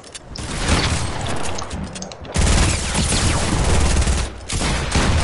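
Sustained rapid gunfire from the video game Dous, loud and dense with two continuous bursts separated by a brief lull, close and without talk.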